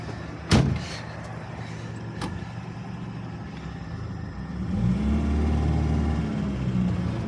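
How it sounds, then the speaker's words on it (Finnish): A garage door being opened while a white Lada is driven into the garage, a sharp bang and clatter near the start, then a few knocks, followed by a rising car engine rumble. "Perkele tätä ovea."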